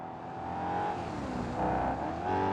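A race car engine in a racing video game drones loudly and continuously, its pitch rising and falling as it revs through gear changes.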